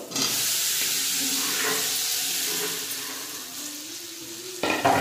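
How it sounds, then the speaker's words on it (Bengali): Fried kohlrabi pieces cook with spices in hot oil, making a loud, steady hiss and sizzle with soft stirring scrapes, ending in a few sharper clatters near the end, without voices. "ভাজা ওলকপিগুলো দিয়ে দেবো।"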